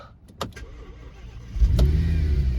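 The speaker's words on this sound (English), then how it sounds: "This is a 2011 Audi S6 with the V10." A 2011 Audi S6 5.2-litre V10 engine catches with a couple of sharp clicks, then settles into a deep, loud idle rumble that continues steadily to the end.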